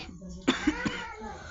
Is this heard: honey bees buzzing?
no